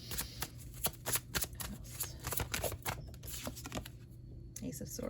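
Slippery tarot cards riffle and flutter through quick repeated shuffles, close up, with a soft voice murmuring underneath.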